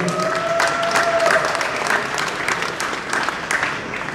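Audience applause at an Atlantika Cup bodybuilding and fitness awards ceremony in Ukraine, a steady wash of many hands clapping throughout, with a faint tonal whine and some murmur beneath.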